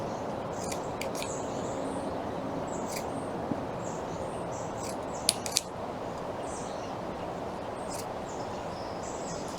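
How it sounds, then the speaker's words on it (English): Scissors snipping fabric strips from a shirt for dog toys, a scattering of faint, sharp close cuts in short clusters over a quiet room hum, with no talk. "I'm going to cut off my gray strips as well."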